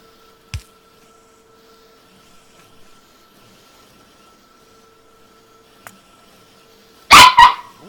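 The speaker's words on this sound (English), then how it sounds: "Yeah, that's the little puppy." During Factorio co-op gameplay, a sound like a small puppy barking comes as a sharp, loud double yap near the end, after long near-silence with a couple of faint clicks.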